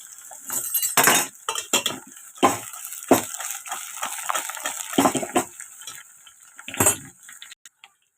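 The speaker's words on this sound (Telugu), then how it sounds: "ఇప్పుడు ఈ సొరకాయ ముక్కలన్నీ కూడా కిందవి పైకి, పైవి కిందకి వచ్చే విధంగా కలుపుకోవాలి." Chopped bottle gourd pieces stirred in a pan with a metal spoon, giving repeated clattering scrapes and clinks against the pan in irregular bursts, close and fairly loud, with no voice.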